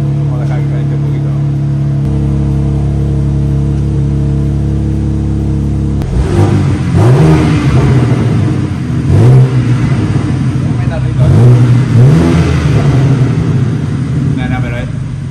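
A cold 510-horsepower car engine idles steadily while warming up, then from about six seconds it is revved in repeated loud, rising bursts that fall back between blips, close and dominant.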